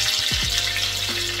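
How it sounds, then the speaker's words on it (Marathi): A stuffed pomfret fish fries in hot oil in a pan, giving a steady, loud, close sizzle with a few brief squeaky utensil scrapes as the fish is flipped, and no talk. "अलगदपणे परत तेलात तळत ठेवायचं."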